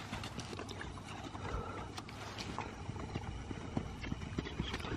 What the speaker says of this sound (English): Well, we are gonna canter in here, but they gotta cool down.